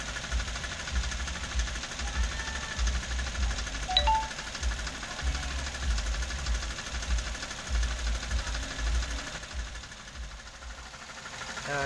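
A Toyota Avanza engine with an internal fault idles roughly and unevenly, its diesel-like knocking chugging close and steady for the whole stretch with no voices over it.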